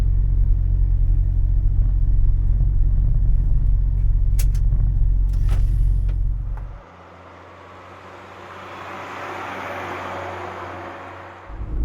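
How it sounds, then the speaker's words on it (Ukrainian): A truck cab on the A-22 motorway heading toward Austria, with a loud low engine and road rumble for about seven seconds that then drops abruptly to a quieter hiss of road and air noise, no talk. "виїхали ми на А-22 і помаленьку їдемо в сторону Австрії"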